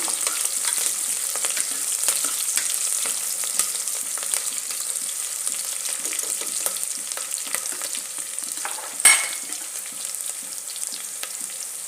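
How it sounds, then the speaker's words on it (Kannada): Onions fry in a pan of oil until golden brown for a vegetarian sambar, giving a steady, close sizzle with light stirring scrapes throughout and one brief louder clatter near the end. "ಈರುಳ್ಳಿ ಚೆನ್ನಾಗಿ ಬೇಯಬೇಕು ಗೋಲ್ಡನ್ ಕಲರ್ ಬರಬೇಕು ಆ ಥರ ಬೇಯಬೇಕು"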